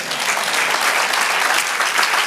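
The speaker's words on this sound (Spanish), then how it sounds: "Dale aplauso al Señor" Continuous, full applause from a church congregation clapping for the Lord, a dense steady wash of many hands close by and loud throughout, with no voices over it.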